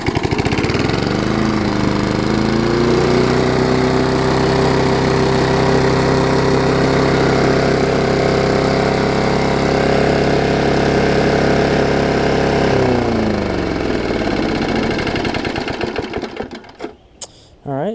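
Murray lawn mower engine restarts after refuelling and settles into a loud, steady idle, its mid-pitched drone holding evenly near the mic before cutting off abruptly toward the end.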